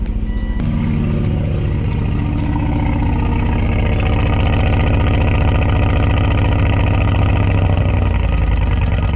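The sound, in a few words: car engine through aftermarket muffler exhaust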